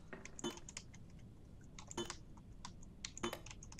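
A few clicky keypad presses sound as a code is entered in Resident Evil 7, three soft clusters of beeps and clicks spaced about a second apart over quiet background.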